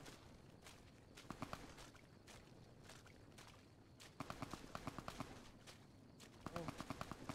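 Bursts of rapid gunfire in Fallout: New Vegas crackle in short volleys against a low background rumble, the shots sharp but fairly distant.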